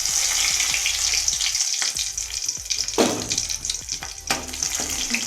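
Whole cumin seeds and two dried red chillies spitting in hot oil, an up-close bright crackling sizzle with sharp pops and bursts, loud and without voices.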